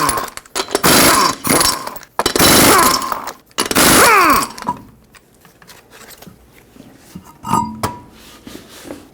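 Lug nuts loosened with a power tool and a front wheel pulled off a 2006-2010 Hyundai Sonata: three loud, harsh bursts up close, then quieter metallic clinks and handling noises.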